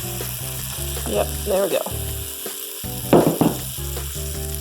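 Pancakes fry in bacon grease on a pan, a steady close sizzle with scraping bursts of a spatula, under a short spoken remark.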